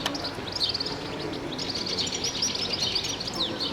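Sardinian warbler, a small Mediterranean songbird, gives rapid scratchy chattering song phrases and high chirps over steady outdoor background noise, fairly close and continuous throughout.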